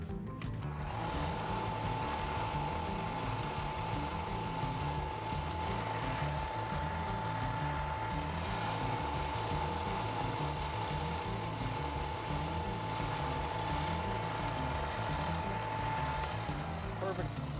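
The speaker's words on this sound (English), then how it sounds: "We can take this back over to the belt sander and just sand that down." A belt sander sanding down a fake brick runs with a steady, loud motor drone and a sustained whine from start to finish, with no pauses.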